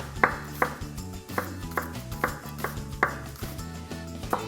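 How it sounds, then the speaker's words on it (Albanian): A knife chops onions on a board in a steady rhythm of sharp, close strikes, roughly two per second, loud and free of any voices. "Në ndërkohë na presim qept."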